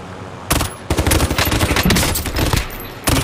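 Call of Duty gunfire aimed at the player: loud, close bursts of rapid automatic shots break in after a short pause and rattle for a couple of seconds, then return briefly after a gap.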